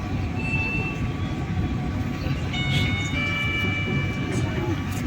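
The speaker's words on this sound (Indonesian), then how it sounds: "saat ini kereta api Matarmaja telah tiba di stasiun Babakan" Matarmaja train pulling into Babakan station, a steady low rumble with tonal hums and brief higher whines throughout, while a voice talks over it.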